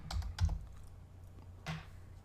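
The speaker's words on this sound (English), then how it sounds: "we can type in Cincinnati" Several quick keystrokes on a computer keyboard as a location is entered, close and fairly quiet, in two short bursts with a pause between them and no talking.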